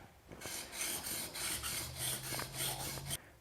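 A hand file rasps back and forth across the teeth of a biscuit (plate) joiner blade in steady, evenly spaced strokes, close and clear with no voices.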